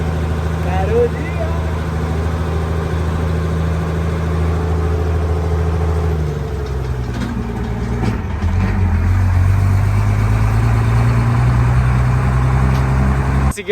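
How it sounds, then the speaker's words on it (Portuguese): A truck engine rumbles loudly and steadily while riding on the back near the wheel on Mosqueiro island, with the pitch dropping midway as the truck shifts. People talk over the noise. "Consegui uma caroninha aqui com aquele caminhão"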